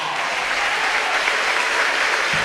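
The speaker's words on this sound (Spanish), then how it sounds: "Dale un fuerte aplauso al Señor" A church congregation gives loud, dense applause at a worship service, a steady wash of clapping that holds at full strength throughout.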